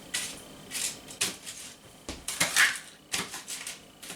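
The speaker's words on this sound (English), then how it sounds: "I'm going to give this a nice chop" A knife chops bacon on a cutting board in irregular bursts of sharp strokes, some rapid runs and a few single cuts, close and moderately loud with no voices.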